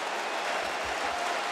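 Dense, steady applause and crowd noise fill an arena during a professional wrestling match, a continuous wash of clapping with no break.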